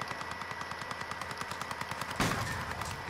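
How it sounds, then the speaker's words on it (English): Rapid automatic gunfire in a Call of Duty: Modern Warfare match rattles off in an even, fast rhythm of sharp reports, with a louder burst near the end, close and loud with no talking. "Who's this guy shooting at?"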